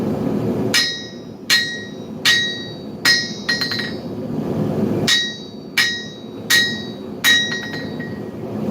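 A blacksmith hammers metal by hand in bursts of ringing strikes, several quick blows per group with pauses between, bright clanging tones over a low background hum.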